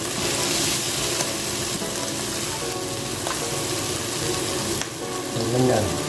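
Mung beans are sautéed in a hot pan, giving a steady sizzle with scraping stirring noises throughout and a brief clatter near the end.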